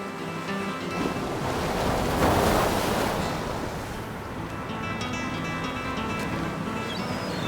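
Atlantic Ocean surf breaks on the coast at Cadiz, a continuous close wash of waves that swells and ebbs, with a steady wind rushing over it.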